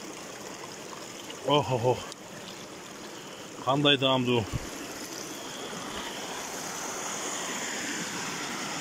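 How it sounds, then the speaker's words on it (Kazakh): Spring water gushes out of the ground in a steady, close rush that runs through the whole stretch, with a man's brief exclamations breaking in twice. "Суын қараңыз ашы мұна. Шарқырап шығылғанына."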